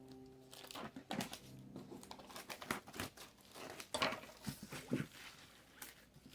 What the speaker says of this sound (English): Cut the shrink wrap off here.